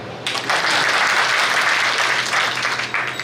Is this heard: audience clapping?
yes